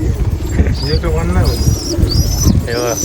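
Gouran pigeons at a loft in Shinde village, Nashik, cooing repeatedly in soft, rolling calls close by, mixed with a few chirps while someone talks over them.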